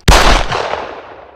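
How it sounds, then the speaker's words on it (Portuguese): A single loud gunshot in the anime Akira: a sharp, close blast with a booming low-end thump, decaying over about a second, heard alone. "Takashi toma um tiro na cabeça, vindo de um lugar desconhecido."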